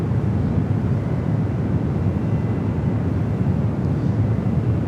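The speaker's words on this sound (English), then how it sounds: "we got a JetBlue A321 heading over here to 1 right" A JetBlue Airbus A321 taxiing toward the runway at SFO, heard as a steady, loud, low jet rumble with a broad roar, mixed with wind on the microphone and no voices.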